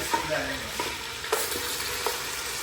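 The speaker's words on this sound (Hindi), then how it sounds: "ऑयल गर्म हो गया, इसमें आपने डाल देना ये गोश्त" Pieces of meat for aloo gosht sizzle in hot oil while being stirred, a close crackling fry broken by the scrape and clack of a spoon against the pan several times.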